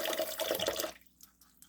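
Tap water running loudly while a dried luffa sponge is rinsed, a steady gushing stream that cuts off abruptly, followed by faint drips and small splashes.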